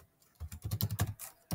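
Fingers tap out a quick burst of keystrokes on a computer keyboard while designing a travel flyer in Photoshop, a close run of soft clicks after a brief quiet start, ending in one last tap.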